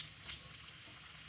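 Chopped onions hiss and sizzle in hot coconut oil in a pan, a soft, steady frying crackle heard briefly and alone.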